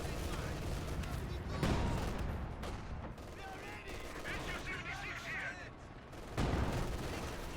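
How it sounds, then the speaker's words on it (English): An MG42 machine gun fires in the video game Company of Heroes 2, with rattling bursts and distant explosions amid battle noise while a commentator talks over it. "MG42's opening up on the Grens"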